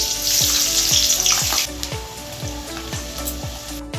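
Onions frying in oil for chiguru chicken make a loud, close sizzle that drops to a lower hiss partway through, with a steady rhythmic musical beat underneath.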